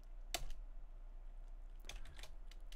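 A few faint keystrokes on a keyboard entering a Linux terminal command: one sharp tap, then a small cluster of quieter clicks near the end, over a low steady hum.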